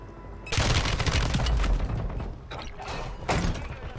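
A Kastov LSW machine gun in a video game fires long rapid bursts, loud and dense, with a short pause before a final burst.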